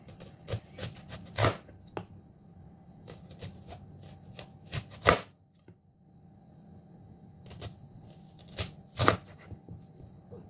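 A knife slicing a yellow onion into rings on a cutting board, with irregular crisp chops and taps, some close and sharp, separated by quiet gaps and no talk.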